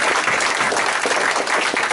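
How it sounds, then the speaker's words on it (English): An audience at a tech meetup applauds in a dense, sustained burst of clapping, loud and even throughout. "let's give a round of applause to"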